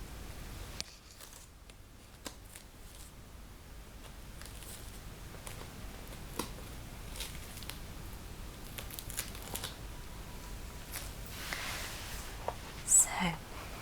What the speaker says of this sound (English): I love the sound the paper makes.